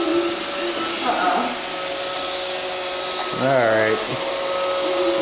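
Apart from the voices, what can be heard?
Roomba robot vacuum running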